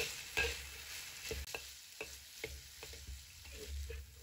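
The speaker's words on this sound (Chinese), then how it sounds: "这时我们可以把火腿丁还有红椒丁放进来，中大火把火腿炒出香味来" Diced ham and red pepper stir-fried in a wok over medium-high heat, a quiet sizzle broken by a steady run of spatula scrapes and clicks against the pan, with no voices.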